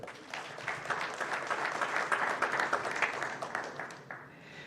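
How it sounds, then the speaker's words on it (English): A school board meeting crowd gives a round of applause for elementary school principals, a full, even wash of many hands clapping that holds steady, then thins near the end. "Please, one more large round of applause for our elementary school principals, Tomball ISD."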